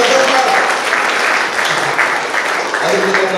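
Loud, dense applause for Dr. Satish at an award and music program honoring Pandit Puttaraj Gavai, steady clapping throughout with a murmur of crowd beneath.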